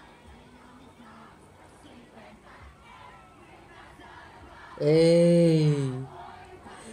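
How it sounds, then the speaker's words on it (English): A huge concert audience at a performance roars a loud sustained chant together near the end, after quieter crowd murmur and a short spoken exclamation. "loving this fan chant, loving this audience singing with the crowd"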